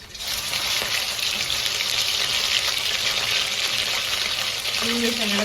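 Water pours into a hot pan of frying chicken at a fast-food-style fried rice stall, a steady broadband gushing hiss held for several seconds, loud and close.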